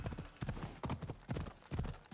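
Horse hooves clip-clop in a steady, loping gallop rhythm in the video game Assassin's Creed Odyssey, with repeated dull thuds at a moderate level and no talk over them.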